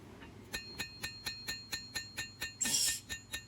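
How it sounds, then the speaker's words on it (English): A hammer forges down the bevel of an 18th-century-style hunter knife in a series of about eleven evenly spaced ringing metallic strikes, close and alone, with one brief louder clattering burst near the end. "hammering that bevel down"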